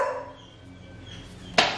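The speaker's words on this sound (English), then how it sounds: "My dog is being a huge diva right now." A dog barks once, sharply and close, after a brief quiet stretch.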